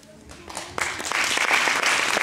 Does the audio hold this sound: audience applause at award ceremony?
yes